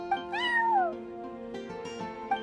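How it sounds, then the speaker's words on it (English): A cat meows inside the Genshin Impact game, one clear drawn-out meow with a falling pitch, heard up close over a steady musical background. "I'm sorry, that's my neighbor's cat."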